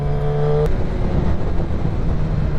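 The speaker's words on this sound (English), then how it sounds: "if you pull in the clutch and you use the clutch normally, it still auto blips for you" Kawasaki ZX10R with a flashed ECU blipping its throttle through an auto-blipper downshift while heading into a corner: a short, sharp rev spike up front that quickly gives way to rushing road and wind noise, loud and close.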